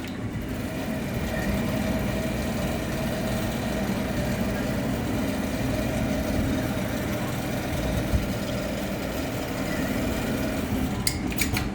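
A PS800-8045 automatic pallet sewing machine runs with a steady, continuous mechanical hum and drone at constant loudness, with a couple of faint clicks near the end and no talking.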